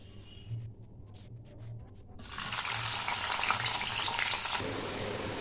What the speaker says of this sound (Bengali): তো উচ্ছেটা আগে ভেজে নিচ্ছি